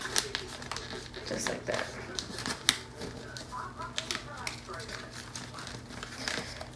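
Paper is folded and creased by hand in quick crisp rustles and sharp crackles, close to the mic, while someone talks.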